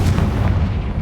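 A Confringo blasting spell from Hogwarts Legacy bursts as a short, loud, deep boom with a rumbling low tail, heard alone.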